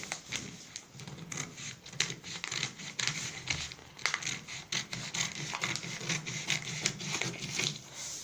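Scissors cutting through a paper back pattern piece for a shirt dress, a close, quiet run of crisp snips and rustling paper that continues throughout.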